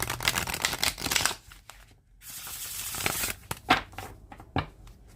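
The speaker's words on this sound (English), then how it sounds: "I'm gonna do one more shuffle just because I've been talking." A tarot card deck being shuffled by hand close up, with papery riffling and rubbing bursts, a short pause in the middle, then more crisp shuffles.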